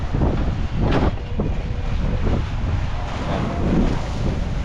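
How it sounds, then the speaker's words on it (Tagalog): Strong wind and rough sea waves on an island shore, a loud continuous roar with heavy microphone buffeting and surging wave wash, no talking. "grabe lakas dito yan o puti-puti yung alon"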